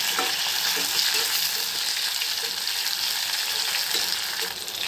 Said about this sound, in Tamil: இந்த அளவுக்கு வெங்காயம் வதங்கினதுக்கு அப்புறம் அந்த அரை தக்காளியும் சேர்த்துப்போம்